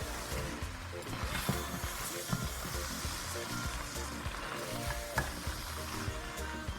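Vegetables for soup being tossed and fried in a pot give a faint, continuous sizzle with soft scraping stirs and clinks throughout.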